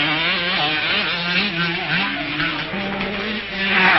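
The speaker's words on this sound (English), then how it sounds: "This race is one of the series in the All-Japan Motocross Championship" Kawasaki motocross motorcycles race in the All-Japan Motocross Championship. Engines scream and rev continuously, shifting pitch as bikes accelerate and change gear, with several machines overlapping in a loud, busy roar.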